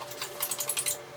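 A Mr. Clean magic eraser rubs quickly over a vintage Sanrio suitcase, giving about eight rapid, squeaky scrubbing strokes, close and fairly quiet.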